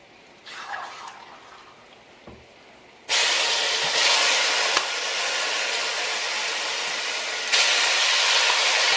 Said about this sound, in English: it's time to add the seasoned pork, marinade and everything into the pot